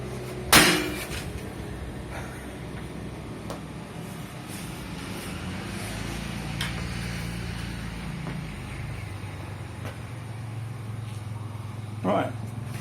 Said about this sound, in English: One more slap with a baseball bat of a carbon fibre LS2 piece of shit Chinese helmet.